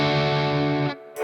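Bloom distortion pedal in classic mode: a loud, sustained distorted guitar chord rings for about a second, then drops away and a new attack begins.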